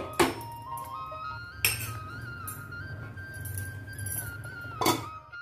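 A pan lid clinks down three times over a pot of simmering homemade tomato sauce, each sharp metallic tap ringing on briefly above a low stovetop hum.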